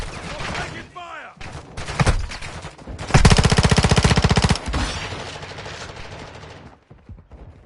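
Rapid automatic gunfire from a Modern Warfare II firefight crackles in loud sustained bursts, peaking in a dense continuous rattle midway, with scattered shots and radio-style voices around it.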